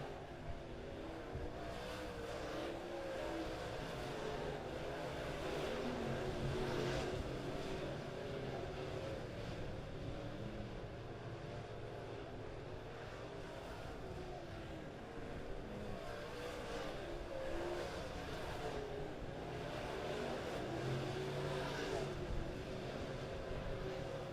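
Dirt late model race cars in a heat race at Springfield Raceway, a distant, continuous engine roar that rises and falls as the field circles the track, heard faintly through crowd ambience and with occasional announcer talk.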